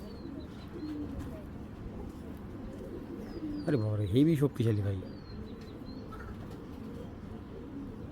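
Girbaj tournament pigeon cooing in a loud, close burst of a few rolling coos in the middle, with someone talking excitedly before and around it.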